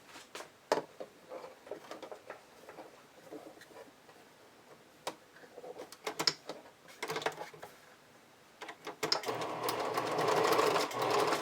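A sewing machine stitches a lace sleeve onto a shrug, with short bursts of close, fast mechanical ticking, brief pauses between runs, and a longer continuous run at the end.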